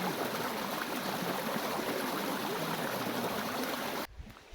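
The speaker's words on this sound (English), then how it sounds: "I personally think this is a really, really neat little section of the river" Dense, steady rush of a river stream flowing through a forest, close and loud throughout, cutting off abruptly near the end.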